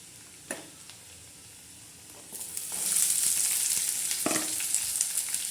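Onion hitting hot oil in a pan for a spiced usal, a sudden loud sizzle rising after a couple of quiet seconds and continuing as a steady crackling hiss, with a few clanks of stirring.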